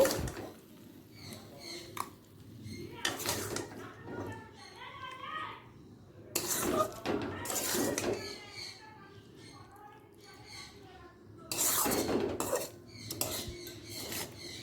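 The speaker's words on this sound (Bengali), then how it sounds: "গ্যাসের ফ্লেমটাকে বন্ধ করে দিচ্ছি বন্ধ করে দিয়ে এবার অন্য পাত্রে তুলে নেব" Cooked snail curry being ladled from a pan into another pot on a gas stove, with scattered metallic clinks and scrapes of spoon on cookware, some loud and close, while a voice is faintly heard at times.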